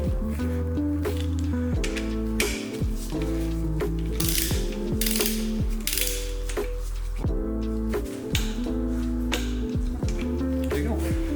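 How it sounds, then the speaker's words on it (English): A torque wrench's ratchet clicks in short bursts while bolts on a Honda K-series Type S oil pump are tightened to 16 foot-pounds, set against steady tonal background sound with occasional voices. "Supposed to torque it to 16 foot-pounds"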